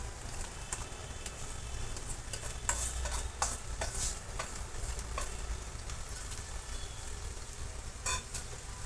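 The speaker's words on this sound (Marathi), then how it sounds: "पहा मी आता पोहे टाकून घेत आहे याच्यामध्ये" Poha, flattened rice, being tipped into a hot pan of fried onion and turmeric and stirred, giving a soft, quiet frying hiss with repeated scraping and tossing strokes close by, without speech.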